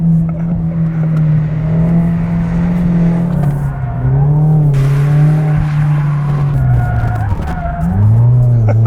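A Fiat 124 Spider with a limited-slip differential slides while drifting, tires skidding in a long, loud howling screech with wavering pitch over the steady drone of the engine, close and continuous.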